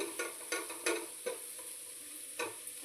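Brinjal curry is stirred in a pan, a spoon scraping and tapping in sharp irregular strokes over a low, steady sizzle, fairly quiet and close.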